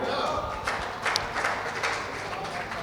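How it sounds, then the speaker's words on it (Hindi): Audience applause at a religious gathering, the Mahakumbh at Maluk Peeth in Vrindavan, a dense, even patter of clapping lasting the whole moment, with voices mixed into the crowd noise. "एक बार जोरदार तालियां बजाइए भाई पवन तोमर तन्मय के लिए"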